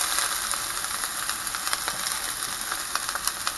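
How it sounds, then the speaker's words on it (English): Onions sizzle in a hot pan while spaghetti is made, a steady close crackling hiss with small popping bursts throughout, no voices. "pan's hot. I'm going to throw in my onions."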